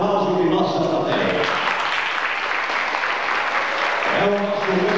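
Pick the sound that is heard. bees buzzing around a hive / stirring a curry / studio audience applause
studio audience applause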